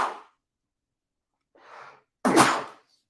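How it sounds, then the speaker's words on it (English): A person sneezes: a quick breath, a short inhaling gasp, then one sharp, loud, close explosive sneeze that fades out into silence. "I have to sneeze."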